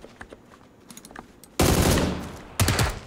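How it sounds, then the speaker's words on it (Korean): Warning gunfire in the battle-royale game PUBG: a loud sustained burst of automatic fire cuts in after quiet, softens, then a second sharp burst follows near the end. "위협 사격."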